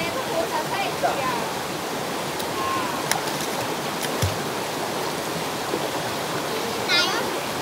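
Stream water flowing outdoors in the Konkan region rushes steadily as a constant broadband wash, with faint voices and brief clicks now and then.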